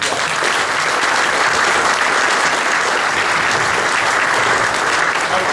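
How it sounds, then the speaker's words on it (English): An audience of Georgia farmers at a disaster relief roundtable breaks into sustained, loud applause, a dense unbroken wash of clapping from start to finish. "So give yourselves a round of applause."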